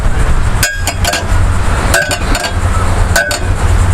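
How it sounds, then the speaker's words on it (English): Metal hammers ring out in sharp, close clinks as a bent boat propeller blade is tapped with one hammer held against the back, three clusters of quick strikes over a steady outdoor rumble. "Just a nice tap."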